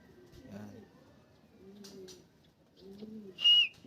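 Racing pigeons at the home loft coo softly in a few low, separate calls, close by and quiet, followed by a brief sharper chirp near the end.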